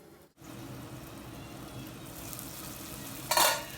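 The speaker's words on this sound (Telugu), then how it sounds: "ఒక మూడు నిమిషాల పాటు మూత పెట్టేసి టమాటాని మగ్గనిద్దాము" Tomatoes simmer in a curry in a covered pan, giving a steady low sizzle and bubble. Near the end comes a brief louder clatter of metal, likely the lid.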